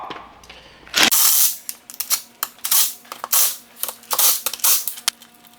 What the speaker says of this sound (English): Let's get this tail shaft off.